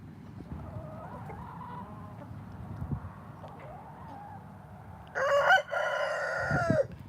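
Several roosters crow in turn, a distant call first, then a loud, close, strained crow near the end over a low background murmur.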